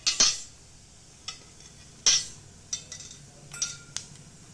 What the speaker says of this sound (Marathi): मोहरी चांगली कडकडली.